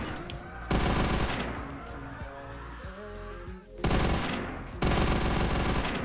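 A light machine gun firing in a Call of Duty custom zombies map, loud sustained bursts of rapid shots broken by short gaps with mechanical clatter between them.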